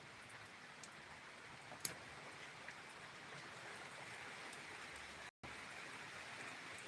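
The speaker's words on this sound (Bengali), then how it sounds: "বৃষ্টি কিন্তু সকাল থেকে কন্টিনিউ হয়ে যাচ্ছে এখনো পর্যন্ত ওই নিম্নচাপের মতন বৃষ্টি হয়ে যাচ্ছে" Steady downpour during cyclone Remal beside fields of jute plants, a continuous soft hiss of rain with faint scattered drips and one brief sharp tap, heard outdoors at a distance.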